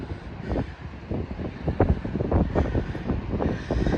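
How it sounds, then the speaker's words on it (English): Wind buffets the microphone outdoors at the National WWI Museum and Memorial in Kansas City. The gusty rumble is loud and steady and rises and falls throughout, with no talking. "You know, up here it's a little windy."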